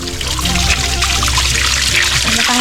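Warm hot-spring water at Balogo, Pasacao, pours and splashes steadily and loudly throughout, a dense continuous rush of flowing liquid close by, with a faint voice now and then.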